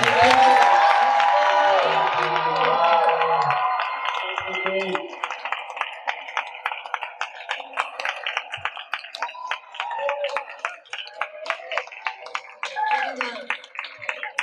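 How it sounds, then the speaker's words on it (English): An audience at a fan convention's Overwatch voice actor panel breaks into applause and cheering, loud at first, then settling into scattered, fading clapping. "let's give them a round of applause, shall we?"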